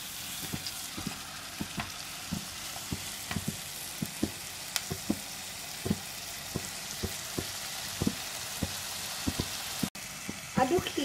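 Minced beef frying in a pan gives a steady low sizzle, broken by regular scraping knocks as it is stirred, fairly quiet and close.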